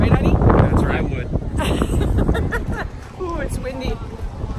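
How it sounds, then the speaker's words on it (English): Gusty wind buffets the microphone in loud low rumbles while people talk nearby during an outdoor charity run. "Ooh, it's windy."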